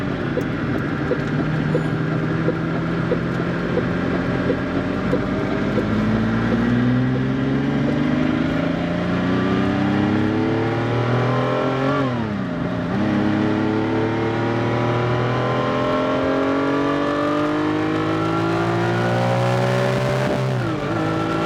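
Ferrari halo car engine revving hard while driving, climbing loudly through the gears with rising pitch sweeps and quick shifts, close and continuous throughout, with no voices.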